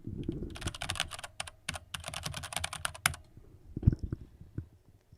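Fast clacking keystrokes on a mechanical keyboard come in close, dense bursts with short pauses, and a few heavier thumps near the end.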